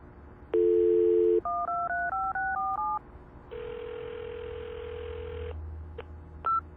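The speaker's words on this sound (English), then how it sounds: "Let's try redialing it." Telephone redial tones in a CSI crime investigation game: a low dial tone, then a quick sequence of crisp touch-tone DTMF beeps, a long ringback tone, and a few short clicks and beeps, clean and alone.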